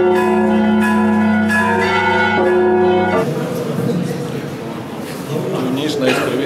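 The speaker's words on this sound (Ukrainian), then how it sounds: "Яким чином ми дзвонимо дзвони?" St. Michael's monastery church bells ring the alarm, loud, sustained metallic strikes with long ringing overtones, then a fading bell tail beneath a man's speech.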